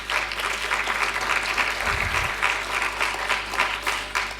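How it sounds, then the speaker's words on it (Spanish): An audience at a talk on asexuality and healthcare applauds for speaker Tamara, with steady, dense clapping across the whole stretch and no talk over it. "Le damos un aplauso de reconocimiento a Tamara hoy día por estar acá."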